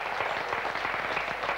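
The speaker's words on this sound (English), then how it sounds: "especially Brendan Quinn, give him a round of applause." Audience applause at a radio station event in Carndonagh, County Donegal, a steady wash of many hands clapping at moderate distance throughout.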